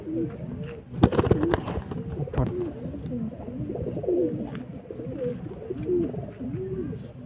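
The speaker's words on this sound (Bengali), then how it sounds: "এটা নর পায়রা তাই তো" A male Rampuri pigeon coos in a steady series of low, throaty, rolling calls, close and clear, with a few brief handling knocks near the start.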